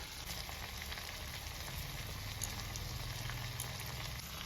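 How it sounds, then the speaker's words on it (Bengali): Meat frying in a pan over a high flame, a steady low sizzle and bubbling crackle that continues evenly throughout, fairly quiet with a faint low hum underneath. "আর এটাকে মোটামুটি 5-6 মিনিট ভাজবো। এখন হাই ফ্লেমে ভাজবো"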